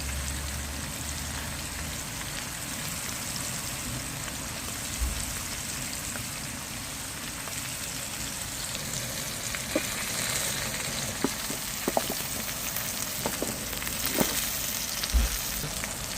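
Anchovies fry in oil in a pan outdoors in a garden, a steady loud crackling sizzle like heavy rain, with scattered sharper pops and spits near the end.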